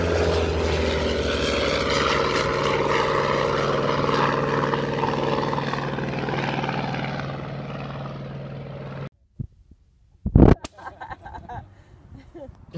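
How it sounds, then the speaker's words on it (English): An F8F Bearcat propeller fighter roars past loudly, its steady engine drone building and holding for several seconds before cutting off sharply, followed by brief scattered noises. "Here he is, the F8F Bearcat."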